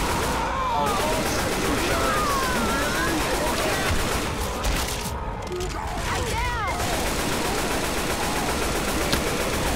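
Rapid bursts of automatic gunfire from Left 4 Dead 2, a Minecraft-map version, sustained and loud through most of the scene, with speech mixed over the dense shooting as a tank attack unfolds.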